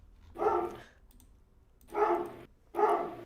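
Dogs bark in three separate bursts, moderately close but fairly quiet, with pauses of near-silence between them.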